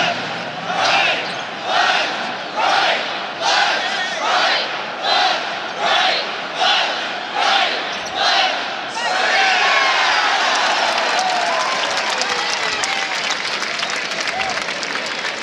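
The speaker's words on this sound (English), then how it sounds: "they are in sync with their cheering" The Mountaineer Maniacs student section at a West Virginia basketball home game against TCU delivers about nine rhythmic, synchronized crowd chants in a steady beat, then breaks into a sustained roar of loud cheering and applause filling the arena.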